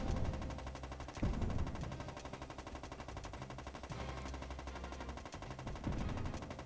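Rapid gunfire bursts from a tank's gun turret in the PS2 game Borderline, a dense rattling stream of shots with a few heavier hits, steady and fairly quiet throughout.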